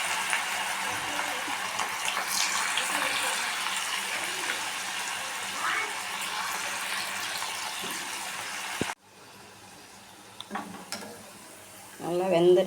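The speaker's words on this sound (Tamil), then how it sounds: "கடாயில் எண்ணெய் ஊற்றி வச்சுருக்கேன். கொஞ்சம் கொஞ்சமாக போட்டு மீடியம் ஃப்ளேமில் வச்சு பொரித்து எடுக்க வேண்டியது." Cauliflower 65 pieces deep frying in oil in a kadai over a medium flame, a steady dense sizzle for most of the clip that cuts out abruptly, followed by quieter scattered crackles and a brief louder burst near the end.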